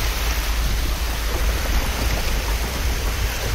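Heavy rain pours onto a mountain road at night, a dense, steady hiss of downpour with a low rumble underneath, loud and unbroken throughout with no voices.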